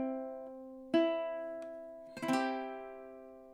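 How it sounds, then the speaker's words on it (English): Ukulele strums the pickup bar into the first measure of The Star Spangled Banner, two bright plucked chords ringing out one after another and decaying, close and clear with no talking. "So when we look at that pickup bar into the first measure, it sounds something like this."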